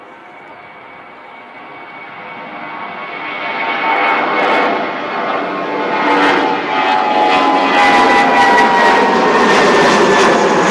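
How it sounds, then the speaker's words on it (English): An Emirates airliner on the move at Christchurch Airport, its engine roar building steadily from a moderate hum to a loud, sustained whine and rumble, heard alone without talk. "Emirates is on the move"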